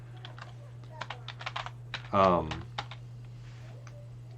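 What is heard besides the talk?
typing on a computer keyboard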